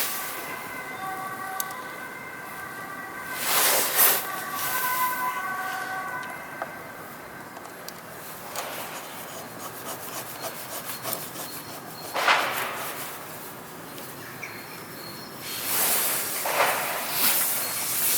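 Hand chain tool pressing a master link into a motorcycle chain on a Honda NC750X, slow creaking metal rubs and squeaks in several separate strokes, close and moderate in level.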